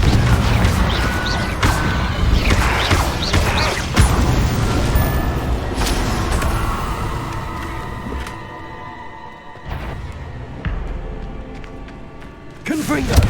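A Confringo blasting spell cast in a video game sets off a loud, crashing burst followed by rumbling debris and clattering impacts. Several sharp thuds and a rising whoosh come at the end, with a voice speaking over the noise.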